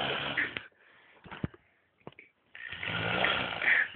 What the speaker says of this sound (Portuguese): O hipopótamo roncando.